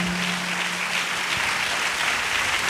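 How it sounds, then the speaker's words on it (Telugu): A church congregation claps loudly and joyfully during a service, a thick, continuous roar of hands close by, steady and strong throughout with a faint low tone beneath. "గట్టిగా చప్పట్లు కొడదాం సంతోషంగా."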